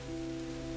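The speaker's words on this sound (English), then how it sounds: "in the garden, there is only the rain." Soft, steady rain falls across a penthouse rooftop garden high above a city at midnight, a continuous gentle patter with a low, even hum beneath and no voices.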